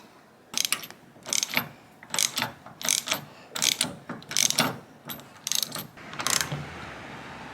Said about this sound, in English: I couldn't find it, so I'm just going to use a plumbing wrench.